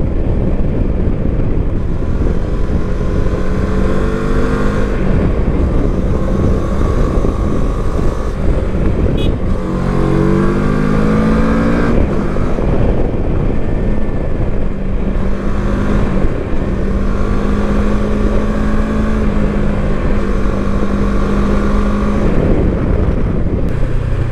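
A 2024 CFMoto 700MT motorcycle being ridden, its engine droning continuously and loudly with rising and falling pitch through gear changes under heavy wind rush, a voice faintly audible at times.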